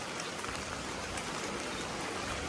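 Heavy rain pours down during a storm in a Thai village, a dense, steady hiss of drops on surfaces that is loud and continuous, with no voices.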